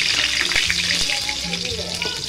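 Potatoes being fried in hot oil for a home Christmas meal, a loud, close, bright hiss of bubbling oil across the short stretch, with faint background voices.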